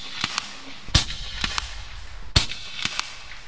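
Gauntlet 30 budget PCP air rifle firing Griffin pellets, two sharp cracks spaced about a second and a half apart over a soft background, with faint clicks between shots and no talking.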